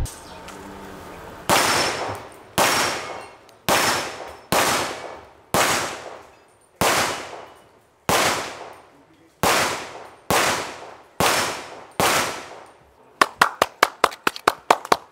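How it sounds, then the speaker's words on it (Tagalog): Loud gunshots ring out one at a time at a steady pace with short gaps at a shooting range, then a quick burst of rapid shots closes the sequence. "Dumating ang araw ng pagsasanay ni Presidente Martinez sa kanyang shooting range."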